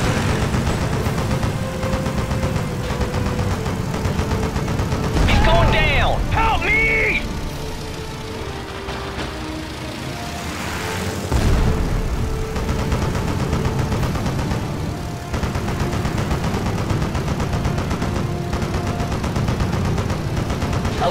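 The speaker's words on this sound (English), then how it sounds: "I'm taking fire!" Gunfire from WWII-era aircraft in the air combat game Blazing Angels, flying a J2M Raiden, heard as a steady dense roar of bursts and engine noise with a louder flurry midway, under game voices.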